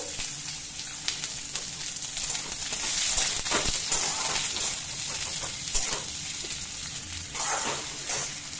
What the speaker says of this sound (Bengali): পেঁয়াজটাকে বেশ লাল লাল করে ভেজে নিতে হবে।